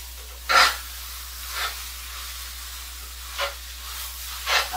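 Food sizzles in a 17-inch skillet that is not fully preheated, with a steady low hiss and several louder bursts of sizzle and spatter as pieces go in and are broken up, close by and with no talk.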